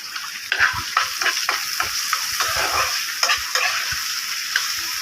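Onions fry in a pan with a steady soft sizzle while a utensil scrapes and stirs in irregular clicks and pushes, close and fairly quiet, with no talk.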